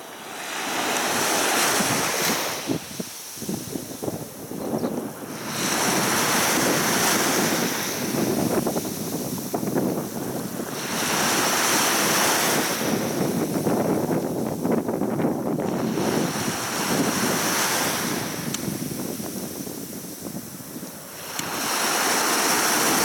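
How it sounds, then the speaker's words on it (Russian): Sea waves wash onto the shore at Gelendzhik on a May morning, rising and falling in long surges every five seconds or so, loud and close with gusty wind buffeting the microphone and no talk. "можно прийти, посидеть, послушать шум моря."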